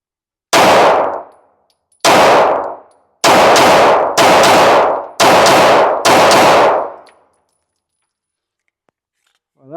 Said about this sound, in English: We're just going to do some shooting, and then we'll do an accuracy test later.